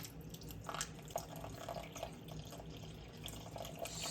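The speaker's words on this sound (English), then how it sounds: "then we're going to add 340 grams of water" Purified water is poured into a bowl in a home kitchen, a faint steady trickle with small splashes and drips, quiet and close, with no talk.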